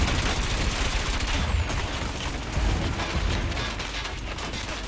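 Rapid cannon fire from a futuristic anti-gravity racing ship in Wipeout 2048 rattles on through the whole stretch in a dense, loud barrage, with engine roar and crackling impacts layered underneath.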